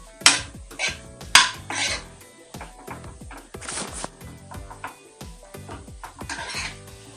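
Broccoli fry stirred in a pan, a steady series of scraping clinks from a spoon against metal over a faint sizzle, coming roughly every half second, close and clear.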